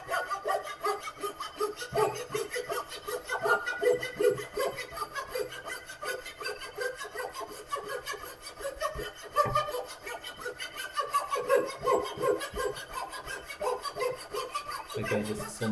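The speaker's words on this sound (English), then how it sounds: "coping saw is only cut on the way back, so not too much pressure required on the forward stroke" A coping saw cuts wood for a picture frame, a steady run of rhythmic rasping strokes, close and moderately loud, with no voices.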